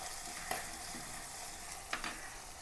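Ginger fries in a pan of hot oil while a fish-head curry is cooked, giving a steady, faint sizzling hiss with a couple of soft stirring clicks.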